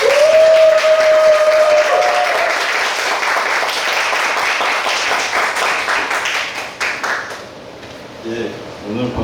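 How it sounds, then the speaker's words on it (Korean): Congregation at a Korean Bible camp retreat applauds to welcome a professor and his wife. A voice is heard briefly at the start, then loud, sustained crowd clapping tapers to sparse claps and murmurs. "큰 축복하는 박수로 맞이하도록 하겠습니다."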